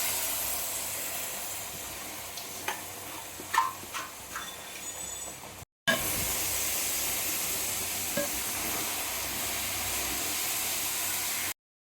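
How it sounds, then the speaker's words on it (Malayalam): Finely chopped nutmeg is stirred into a hot pan for nutmeg pickle, giving continuous sizzling and frying hiss with scattered scraping stir strokes, close and steady, broken by one short pause. "ഇനി നമ്മളുടെ കുനുകുനാന്ന് അരിഞ്ഞ് വെച്ചിട്ടുള്ള ജാതിക്ക മുഴുവനായിട്ടും ചേർത്ത് കൊടുക്കാം"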